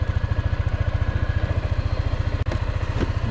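A 2022 Honda ADV150 scooter idles just after starting, its small engine putting out a steady, rapid low putter with a faint clatter, loud and close, alone with no talk.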